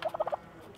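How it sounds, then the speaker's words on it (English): Turkeys gobble at feeding time, a quick burst of four or five loud, close gobbling notes in the first half-second, then near silence. "Y'all turkeys like that feed, huh?"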